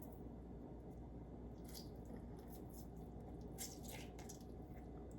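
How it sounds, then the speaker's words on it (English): Ripe avocado being prepared for avocado toast in a home kitchen gives off a constant wet squishing and mashing, dense and close, with faint drips and no talking. "I'm making my avocado toast now"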